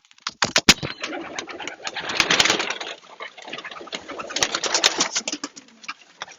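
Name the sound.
racing pigeons cooing in loft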